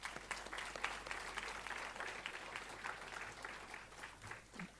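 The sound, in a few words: audience applause at a graduation ceremony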